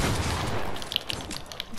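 Rapid gunshots in Fortnite, a dense crackle of close shots with a few brighter pings, sustained over a brief moment.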